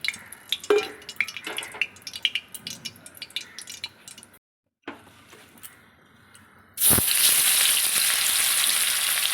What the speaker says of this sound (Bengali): এবার মাছগুলো ভেজে নিতে হবে এক এক করে সব মাছগুলো দিয়ে নিচ্ছি